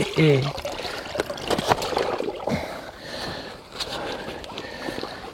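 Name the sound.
carp being released back into river water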